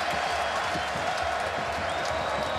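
A large stadium crowd at a USA versus Nigeria international friendly applauds a substitution, giving a steady, broad wash of clapping and crowd noise under a commentator's voice.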